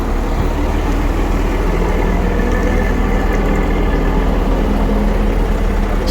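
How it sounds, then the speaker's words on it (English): A 1989 Volvo FL10 Mark 1 truck in Scotland runs with a deep, throaty exhaust, giving a loud, steady low rumble that stays constant throughout, with no talking. "It sounds brilliant. Nice and deep throaty exhaust."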